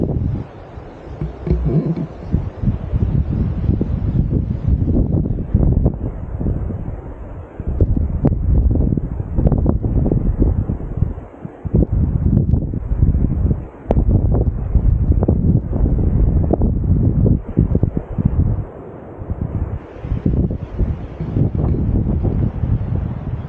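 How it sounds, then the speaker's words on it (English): Strong, gusty wind buffets the microphone at a coastal lookout on the Great Ocean Walk, a continuous loud roar with brief lulls throughout. "It's going to get breezy though, I think."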